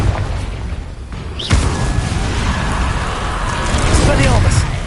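A Confringo explosive spell blast in the Hogwarts Legacy video game bursts with a heavy boom about midway, set within a dense, continuous din of combat with voices calling out over it.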